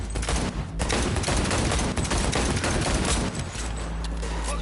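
Intense rapid gunfire in the shooter Cyberpunk 2077, loud sustained automatic bursts and overlapping shots filling the clip, easing slightly near the end.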